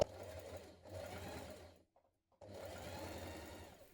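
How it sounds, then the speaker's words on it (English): A sewing machine stitches the front insert of a jumpsuit to its bodice with a steady motor whir, pausing briefly before running again. "Now stitch the insert, the front insert, to the bodice on the other side."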